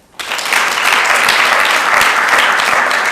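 An audience at a police academy graduation bursts into loud, close applause that begins abruptly and holds steady as a dense wash of many clapping hands, with no talk over it.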